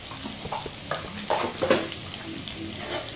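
Whole cardamom, cloves and cinnamon sizzle in hot fat for Bengali sweet polao while being stirred, with steady frying crackle and a few louder scraping stirs near the middle.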